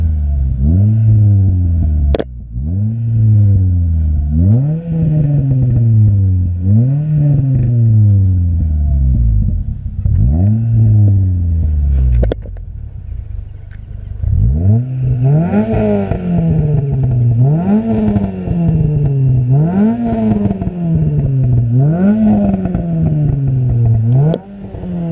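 Renault Clio RS 197 with intake mods revving hard on a B-road, engine climbing repeatedly through the gears in rising sweeps, loud and close, with a short lull of lower rumble midway before more aggressive pulls.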